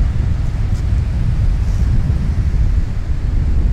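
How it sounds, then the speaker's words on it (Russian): Icy winter wind buffets the microphone on a seaside promenade in Zelenogradsk, a constant low roar with no talking. "Ветер, честно говоря, ледяной."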